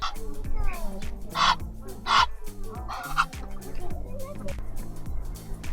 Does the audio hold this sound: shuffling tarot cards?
no